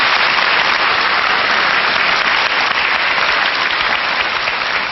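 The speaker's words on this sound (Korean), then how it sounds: "박수 한번 주시고요." An indoor lecture audience applauds steadily, a dense, even wash of clapping that runs throughout without pause.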